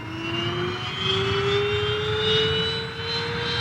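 A specially equipped NASA jet flies over California's San Andreas Fault, its engines giving a steady, loud drone with a faintly rising whine throughout, alone.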